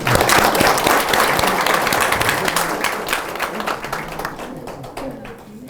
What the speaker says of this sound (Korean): 모두 우리 다 같이 한번 박수 한번 치자